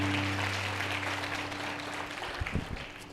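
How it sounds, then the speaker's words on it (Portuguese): Church congregation applauding during a worship service, a dense, fairly distant patter of clapping over a steady low hum, fading slightly with a few louder thumps near the end. "Pode aplaudir ao Senhor"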